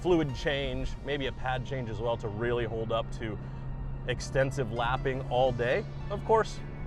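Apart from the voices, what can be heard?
No everyday noises stand out.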